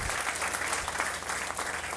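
Audience applause at a Washington groundbreaking ceremony for a spy museum at L'Enfant Plaza, honoring council member Jack Evans: a dense, steady wash of clapping from a crowd, continuous and fairly close for the whole stretch with no voices over it.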